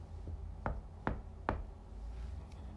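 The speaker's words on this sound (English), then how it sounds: "Mr. Cream heard a quiet little knock at the front door." Three quiet knocks on a front door, evenly spaced sharp raps close by, followed by a hushed room tone.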